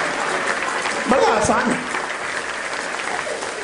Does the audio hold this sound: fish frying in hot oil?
no